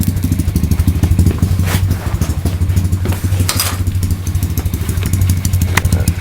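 A pit bike engine idles loudly and steadily nearby, its rapid rattling putter continuous with slight fluctuations in pitch.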